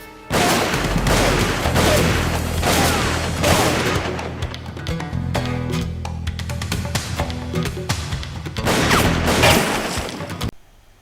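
Heavy gunfire rattles through a shootout in the 1990s TV action series Renegade, with dense overlapping shots, booms and crashes that go on almost without pause. The volume stays loud throughout and no speech is heard.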